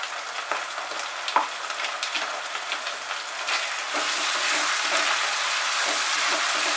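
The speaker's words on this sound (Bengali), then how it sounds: "আদা রসুন বাটাটা দিয়ে আবার আমি ফ্রাই করছি।" Ginger garlic paste frying with onions in a pan over medium heat for chicken curry, a soft continuous sizzle with a few light stirring scrapes, rising to a fuller hiss in the second half.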